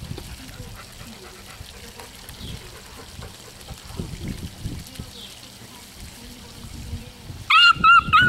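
A garden hose sprays and trickles while Malamute puppies splash and play nearby, a soft irregular watery patter with faint puppy scuffles, then a sudden louder burst near the end.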